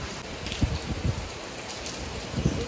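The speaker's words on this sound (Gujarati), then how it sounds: "જોરદાર વરસાદ આવે છે" Heavy downpour in Surat, a steady close wash of rain hitting surfaces, with a few heavier dull drops and patters standing out over the constant hiss.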